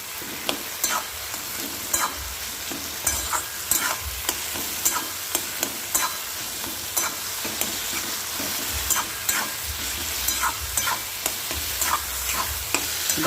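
A metal spatula mashes roasted eggplant bharta in a pan, making steady, close scraping and tapping strokes in an uneven rhythm over a soft sizzle, with no voices.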